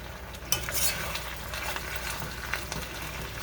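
Potatoes and onions fry in an iron skillet on a gas stove, a soft steady sizzle with light scraping stirs and a few brief metallic clinks, no talking.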